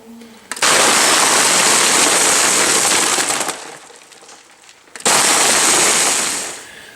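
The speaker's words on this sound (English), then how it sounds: "I'm done blending." A blender crushes ice for frozen lemonade with a loud, close, roaring grind lasting about three seconds that eases to a lower churn. A second loud burst then tapers away.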